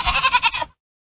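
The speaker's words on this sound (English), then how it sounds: "The goat screamed." A goat lets out a single loud, close bleating scream, a wavering rapid vibrato cry lasting under a second before cutting off to silence.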